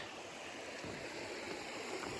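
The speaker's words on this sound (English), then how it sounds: "And look at this remote river." A remote river on the Appalachian Trail near Griffith Lake in the Big Branch Wilderness, Vermont, rushes in a steady, broadband wash, close and continuous, with no voices.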